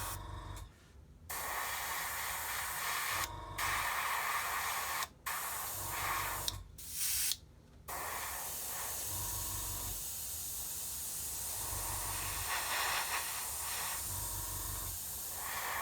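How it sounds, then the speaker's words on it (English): An airbrush hisses out fast-drying paint during a beginner's Buff model build, a steady close spray broken by several short pauses as the trigger is released, then running on continuously. "it just wants to keep drying in the airbrush"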